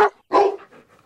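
A dog gives two sharp barks close by, a short yap followed by a louder bark that tails off into a brief whimpering fade, with no talking.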